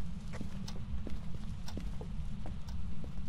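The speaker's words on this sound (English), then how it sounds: "I heard its footsteps. It's here in the hallway." Ghost footsteps in a ghost-hunting video game thud in a steady walking rhythm down a hallway, a series of distinct knocks over a constant low rumble.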